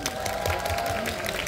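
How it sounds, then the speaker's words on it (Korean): Brief burst of audience applause and crowd noise at an outdoor concert on Nodeulseom island in Seoul, following the vocalist's stage remarks, steady and fairly full. "많은 응원과 박수 한번"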